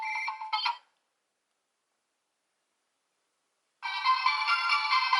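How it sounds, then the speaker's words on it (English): Electronic ringtone from a DX Kiramai Changer toy in call mode, a bright melodic chime that plays briefly, stops for about three seconds, then resumes and continues to the end. "Third mode, call mode. Or Kiramai calling."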